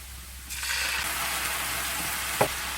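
Japchae noodles stir-fry with soy sauce, a soft hiss that rises into a steady sizzle after a moment, with one short scrape of a utensil near the end.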